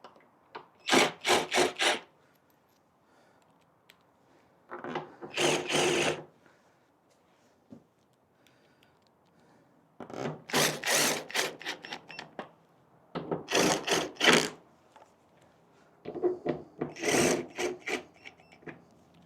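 A power gun runs bolts into a motorcycle during customization work, with several whirring bursts of one to two seconds separated by short pauses, close and clear with no talk.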